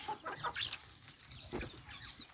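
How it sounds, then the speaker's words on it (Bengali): Native country chickens clucking while pecking at feed on a farm, soft overlapping clucks and scratchy bursts close by with steady barnyard background, no talking. "আমরা প্রত্যেকটা মুরগি খাবার দিচ্ছি তারা সুন্দরভাবে খাবার খাচ্ছে দেশি মুরগি"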